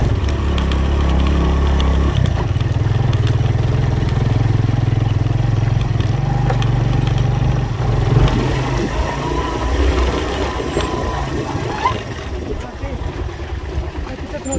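A motorcycle on a loose, rocky mountain track toward Fairy Meadows near Nanga Parbat labours with a steady, loud low engine drone, at one point dropping in pitch, joined by crunching gravel and wind while a rider talks.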